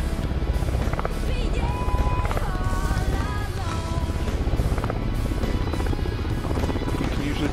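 Helicopter rotor and engine drone from a shooter video game, steady and fairly loud throughout, mixed with game sounds and tonal effects while people talk over it.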